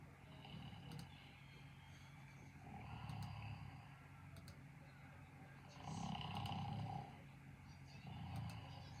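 Snoring sound effect: slow, repeated low rumbling snores swelling and fading roughly every two to three seconds, faint and close, with light ticking clicks scattered over it.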